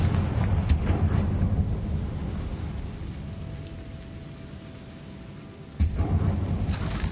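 A Confringo blasting spell erupts in Hogwarts Legacy: a sharp explosive burst, a long rumbling, crackling decay that fades, then a second loud blast near the end.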